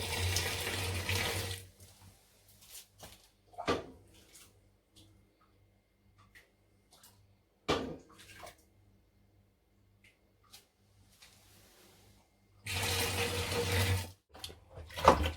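Boiling water gushes and splashes into a homebrew beer bucket in two pours, at the start and end, with quiet clinks and handling sounds between.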